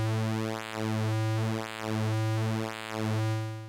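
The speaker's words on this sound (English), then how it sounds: "It has pulse width modulation," A sustained synthesizer square wave with pulse width modulation holds one buzzy tone whose timbre sweeps in slow repeating cycles, heard alone at moderate level.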